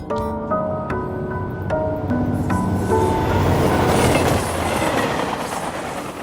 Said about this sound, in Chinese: 阿呆也很热心的带阿珍去坐地铁，结果阿珍太蠢，直挺挺的走过了黄线。